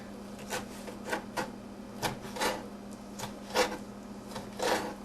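Knife cutting bell peppers into even strips on a board, a series of irregular sharp chopping taps over a low steady hum, fairly quiet and close with no talking.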